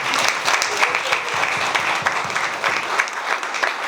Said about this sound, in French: Je vous prie d'applaudir pour eux.